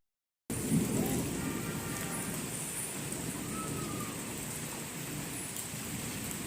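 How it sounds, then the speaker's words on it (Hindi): Heavy rain pouring steadily outdoors in a constant dense hiss, with a low rumble underneath and a faint bird call, starting abruptly after a brief silence. "तो बारिश तेज़ हो गई है।"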